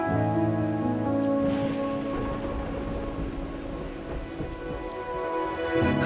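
Steady rain falling in the video game Wuthering Waves, a continuous dense hiss with soft low rumbling, heard under a layer of sustained musical tones for the whole stretch.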